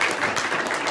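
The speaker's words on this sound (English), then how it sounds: "Feel free to applaud." Audience applauding at a human-versus-computer quiz match, a short dense burst of clapping.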